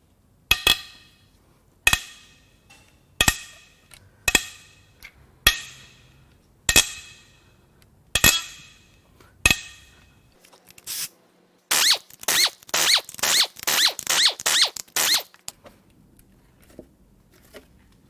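Cylinder head bolts are loosened on a Toyota 5VZ 3.4L V6 engine: a series of sharp, evenly spaced cracks breaking each bolt free, then a quick run of rapid ratchet clicks near the end.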